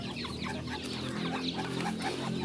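Chickens of mixed breeds, native, PB and Texas, cluck and chatter steadily at feeding time on a backyard farm, a busy overlapping flock noise with some brief crowing.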